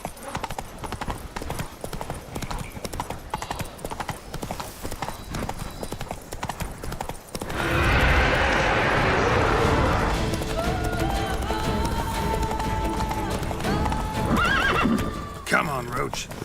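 Roach the horse gallops in The Witcher 3 video game, a steady run of clip-clopping hoofbeats with a whinny, swelling into a louder, denser rush about halfway through.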